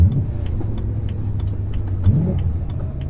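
A low-mileage BMW E92 M3 with soft Napa leather seats drives along, its engine a steady low drone heard from inside the cabin, with faint ticking over the hum.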